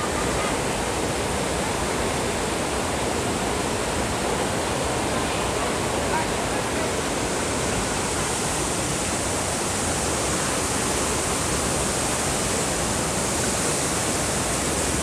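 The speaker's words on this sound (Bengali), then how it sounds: "ঝর্ণাটা থেকে কত পরিমাণ জল পড়ছে" A monsoon waterfall near Bindu Barrage, feeding the Jaldhaka river, roars in a loud, unbroken broadband rush of falling water that fills the whole stretch.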